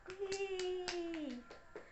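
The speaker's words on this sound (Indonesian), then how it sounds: "jadi kita tepuk tangan semua" A classroom of students claps in a rhythmic pattern of sharp beats while a voice holds a long sung or chanted tone over them.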